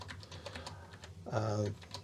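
Keys clicking on a Tandy 200 portable computer keyboard, a quick run of light taps close up, followed by a short stretch of talking.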